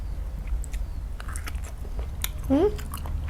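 Close, moist chewing and biting of papaya leaf sambal, with soft crunches and smacks repeating at an uneven pace, plus a brief voiced hum partway through.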